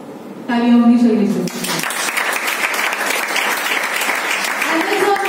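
Audience applause at a seminar on financial freedom in Vapi, a dense sustained clapping that swells after a brief harmonic tone at the start and continues steadily for several seconds.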